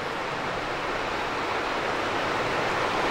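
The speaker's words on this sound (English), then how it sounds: "And flowing down there is Bear Creek." Bear Creek flowing below a viewpoint near Bear Gap, Pennsylvania, a steady, even broadband rush of moving water that holds constant for the whole stretch with no voices.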